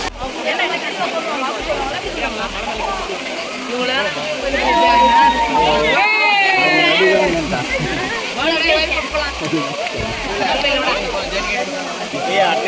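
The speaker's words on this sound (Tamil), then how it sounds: "ஃபால்ஸில் தண்ணி வருது" Kailasa Kona waterfall rushes steadily with a broad hiss while bathers chatter and call out in a crowded, echoing babble throughout, voices often over the water.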